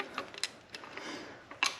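Torque wrench tightening bolts on a Kubota B2601 tractor, a few quick faint ratcheting clicks spaced irregularly with a louder click near the end, close by and otherwise quiet.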